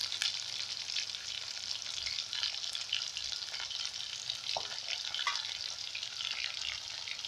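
Onions frying in oil for onion chutney give off a steady, close, dense sizzle, with a few soft scrapes as they are stirred in the pan. No one speaks.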